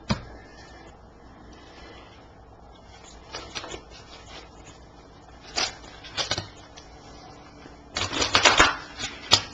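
Oracle cards are handled and shuffled close by at a reading table, with soft papery rustles that build into a busier flurry of card riffling near the end.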